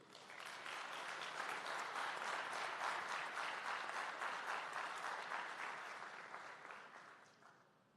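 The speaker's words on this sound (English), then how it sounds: "Give her a round of applause once more" A ceremony audience applauds warmly at a national AI lab signing event, steady dense clapping building quickly and holding for several seconds before tapering off near the end, with no talking over it.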